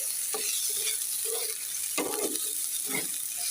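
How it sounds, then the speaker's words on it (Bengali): Onion, cardamom and cinnamon fry with rice in a pan, with a steady sizzle under a few scraping stirs of a spoon, close and moderately loud, no voices. "দেখো পেঁয়াজ এলাচ দারচিনি ভেজে কলার চাউল দিয়ে দিলাম"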